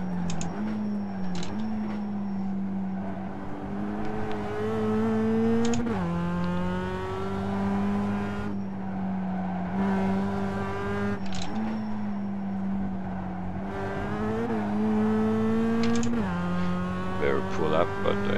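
A race car lapping a circuit at full throttle on cold tyres, its engine note rising and dropping sharply through repeated gear changes and lifts for corners, loud and close throughout.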